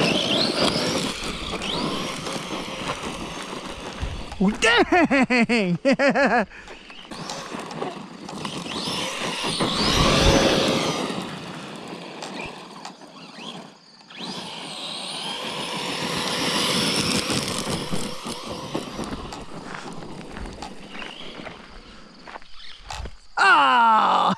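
A Traxxas RC monster truck is driven hard, its electric motor whining and surging in bursts of acceleration, with tire and chassis noise, loud and close, while people exclaim at times.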